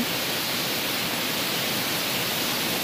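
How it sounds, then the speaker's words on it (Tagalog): Pasalan Falls, a waterfall in Barangay Nasig-id, Zamboanguita, Negros Oriental, roars close by as a steady, dense broadband rush that keeps an even level throughout with no voices. "We have unlocked another waterfalls in our province."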